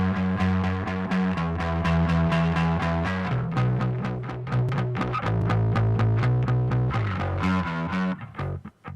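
A dark, loud, distorted synth bass churns through a continuous growling riff of rapid notes, thick and aggressive, with no one speaking.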